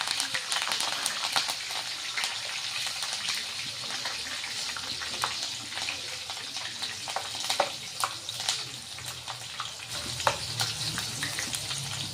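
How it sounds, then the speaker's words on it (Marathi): Green chillies and curry leaves fry in hot oil, a dense crackling sizzle with frequent spits and pops, fairly close and continuous for the whole stretch with no one speaking. "आणि ह्या हिरव्या मिरच्या ह्या पण तळून घेणार आहे. हा कढीपत्ता हा पण तळून घेणार आहे."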